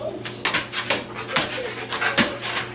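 A pet dog panting close up, quick rhythmic breathy huffs repeating steadily throughout, with a soft whine or voice faintly underneath.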